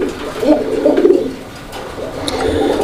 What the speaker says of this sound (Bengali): শুরুতেই আমরা দেখতে পাচ্ছি খুব চমৎকার একজোড়া কালারিং রাজগোল্লা কবুতর